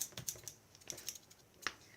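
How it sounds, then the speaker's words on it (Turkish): Scissors cut along a fold line in paper with a quick series of crisp, close snips and clicks, quiet and uneven in rhythm. "Şu kat izini makasla ben hemen keseceğim."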